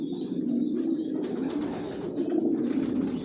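Johnson chocolate racer pigeons in a loft, a continuous chorus of low, throaty cooing from several birds close by, with no talking.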